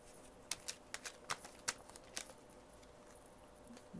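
Tarot cards are shuffled close by in crisp, quick bursts of riffling and flicking over roughly two seconds, followed by quiet room hiss.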